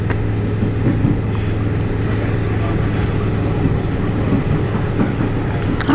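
Steady low rumble of a Class 313 electric train rolling along rails to Barnham, with a constant drone and faint rhythmic clatter throughout, close and continuous.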